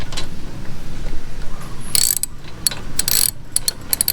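A ratchet wrench clicks in quick bursts of sharp metallic ticks while tightening bolts on an RS100 motorcycle, several short runs of cranking separated by brief pauses, close and clear with no voices.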